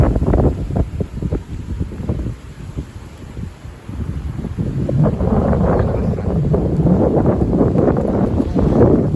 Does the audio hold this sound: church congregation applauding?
no